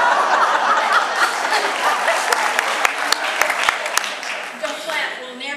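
Audience applause at a church gathering of the Synod of South Atlantic, a steady wash of clapping mixed with scattered chuckles and a few sharper individual claps, continuing for several seconds at moderate loudness.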